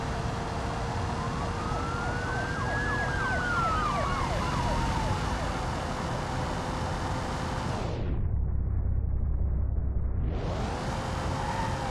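A police car siren wails in the BeamNG Drive driving game, its pitch rising and falling steadily over a constant engine drone, then cutting out abruptly for a couple of seconds before sweeping back in.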